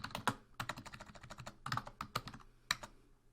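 Rapid, uneven keystrokes on a computer keyboard, close and crisp, with short pauses between bursts of clicks and no voices.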